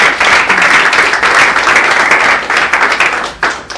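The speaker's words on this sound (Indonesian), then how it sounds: "Jadi kita kasih tepuk tangan untuk Bang Indra dan semuanya." Audience applause at a talk, a close, loud burst of many hands clapping that continues steadily and thins out toward the end.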